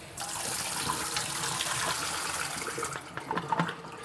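Liquid poured out of a film developing tank while processing old World War II film, a steady close splashing stream that sputters into uneven gurgles near the end, with no talking.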